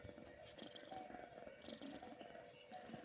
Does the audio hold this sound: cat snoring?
yes